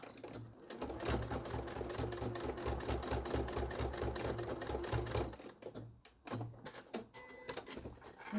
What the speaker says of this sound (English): So I'm going to go like that and just stitch that handle to that side.